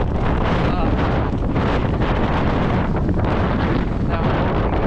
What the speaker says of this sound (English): Now I'm walking into the wind, which is like unbelievably difficult.